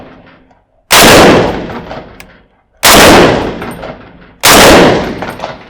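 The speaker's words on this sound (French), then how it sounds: "on va enchaîner un petit peu les tirs" Three single shots from a Swiss Stgw 57 assault rifle at a range, each a loud sharp crack with a long ringing decay, spaced about two seconds apart.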